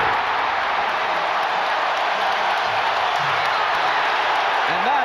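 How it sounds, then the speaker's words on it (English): A basketball arena crowd at a Bulls versus Indiana game makes a broad, steady roar, loud and unbroken, with faint voices mixed into the noise. "And that gets the crowd back into it"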